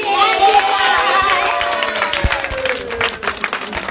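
An audience claps and cheers together in a hall, a dense burst of applause that gradually thins out, with a voice talking over it.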